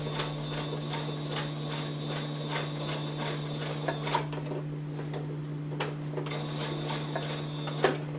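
A sewing machine stitching fabric for a travel pillow, running with a steady motor hum and rapid rhythmic needle ticks, with occasional louder clicks as it stops and restarts, close and alone.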